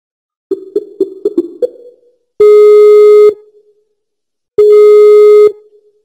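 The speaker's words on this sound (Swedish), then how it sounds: "Ska vi ta och ringa upp Alex?" A telephone call starts with a quick run of keypad dialing beeps, then two long, loud electronic ringing tones separated by a short silence.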